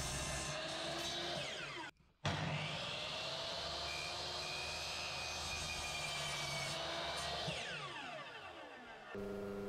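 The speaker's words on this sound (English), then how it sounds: "Just cutting that now with a miter saw." A miter saw cuts through wood for the pitched roof of a bird suet feeder, a steady, loud whine with a short break near two seconds, winding down toward the end.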